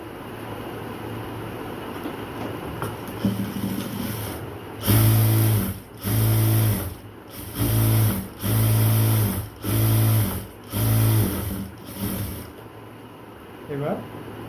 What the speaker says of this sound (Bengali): আমরা সুতোটুকু কেটে নেব, নেওয়ার পরে আরেকটা সেলাই করে দেব।